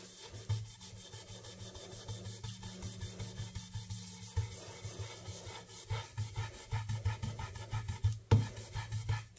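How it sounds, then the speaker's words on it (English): An ink-loaded brush rubbed back and forth on a craft mat for card making, a close, rhythmic scratchy swishing in repeated strokes that grows busier toward the end, alone without talk. "I'm just going to rub it off there on the mat first"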